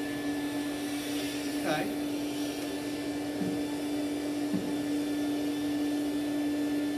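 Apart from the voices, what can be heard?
mini vacuum cleaner running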